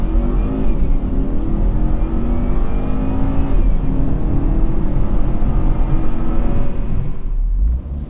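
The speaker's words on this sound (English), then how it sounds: "Alright, power braking." A 2017 Volvo V60 Cross Country engine revs hard and steadily while power braking, a loud sustained roar with rising drone that holds for several seconds before easing off at the end.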